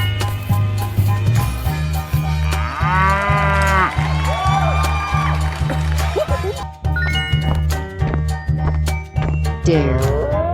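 A cow moos repeatedly in long, drawn-out calls over a steady, looping musical background that continues throughout.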